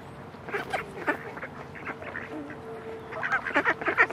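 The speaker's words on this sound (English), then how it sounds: "I touched the ducky." Ducks at a zoo quack in scattered bursts, moderately close, with a faint steady hum and some soft background activity between calls.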